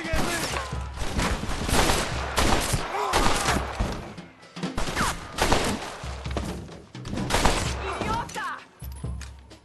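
Dense gunfire in the Western video game Red Dead Redemption, with repeated loud shots and heavy thuds in clustered volleys amid chaotic battle noise and shouting voices.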